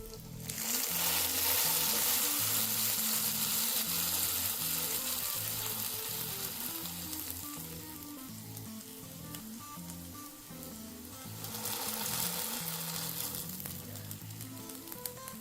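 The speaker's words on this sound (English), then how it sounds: "And so I put the salmon in the skillet, and now I'm going to use the spatula to smash it down." A salmon patty fries in a hot skillet with a loud, steady sizzle throughout, flattened with a spatula partway through, the crackling swelling again toward the end.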